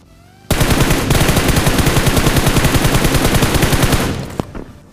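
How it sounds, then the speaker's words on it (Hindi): Sustained automatic gunfire from a battle royale shooter game, a continuous rapid burst lasting about three and a half seconds, loud and close, then a couple of isolated shots trailing off. "तो ये वाले बंदे को भी मैंने थोड़ा बहुत फायर दिया"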